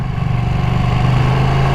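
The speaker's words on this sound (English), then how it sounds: "You can't beat the V-twin for sound." A Ducati Panigale V2 V-twin fitted with an Akrapovic exhaust holds a loud, steady, deep throbbing rumble up close, with no change in pace.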